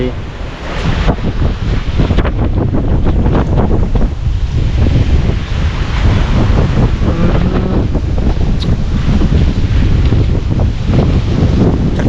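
Abnormally strong wind buffeting the microphone in a loud, continuous roar with gusts, while a person speaks underneath.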